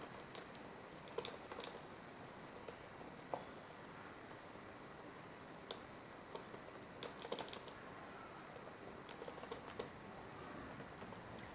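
Quiet computer keyboard typing while Java code is written, soft irregular key clicks in short bursts with pauses, fairly faint and close, no voices.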